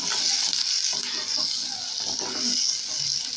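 A steady hiss of chopped onions frying in hot oil, with faint stirring sounds underneath.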